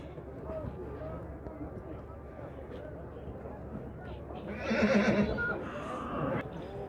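A foal at the Nookat livestock market in Kyrgyzstan lets out a loud neigh late in the moment, rising over a constant market murmur while people talk nearby.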